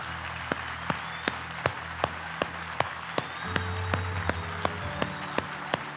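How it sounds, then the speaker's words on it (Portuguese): A church congregation applauding, heard as sharp, evenly spaced claps over a steady background hum, with a low musical drone entering partway through. "Aplaude ao Senhor bem forte por essa palavra."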